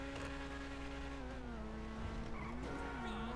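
The Furia supercar in GTA 5 revs with a steady, high-pitched engine drone, then rises and dips in pitch with a tire-squeal edge. It plays alone and close for a few seconds.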